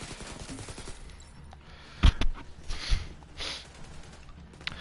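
Gunfire from the video game The Division 2, heard as a handful of sharp shots and a short burst over a busy game soundscape, fairly distant and moderate in level.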